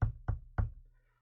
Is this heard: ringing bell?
no